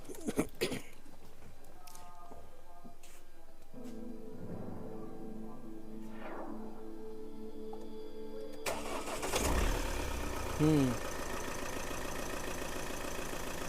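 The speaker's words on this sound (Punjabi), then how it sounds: "ਲੈ ਮਿੱਤਰੋ ਆਪਾਂ ਸਟਾਰਟਿੰਗ ਵੀ ਦੇਖੀ ਲਈਏ" A Mahindra Scorpio S11 sits quietly before its engine cranks and catches at about nine seconds, then settles into a steady mid-pitched idle, close to the microphone with a brief murmur of a voice.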